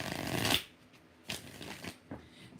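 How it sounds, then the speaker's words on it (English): Tarot cards being shuffled several times, each riffle a quick papery flutter with short pauses between, close and fairly quiet. "Tracy, we're going to do 4 shuffles for S's energy."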